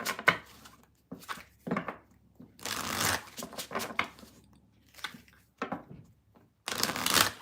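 Tarot cards being shuffled by hand in several short riffling bursts, close and crisp, separated by brief pauses, with no talking.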